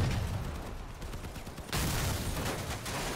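Cannon fire in the vehicular combat game Crossout, heard as a loud, dense wall of blasts and gunfire that keeps going and swells louder partway through.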